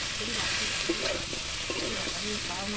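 Chicken leg pieces frying with garam masala and meat masala, a steady sizzle under repeated scraping stirs of a spoon in the pan, close and continuous.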